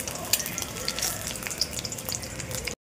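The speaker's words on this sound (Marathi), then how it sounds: "कढईत तेल टाकलं, अशी दाणे तळून घ्यायची" Peanuts fry in oil in a kadhai, a close, crackly sizzle with small irregular pops and spits over a steady hiss, lasting just a few seconds with no talking.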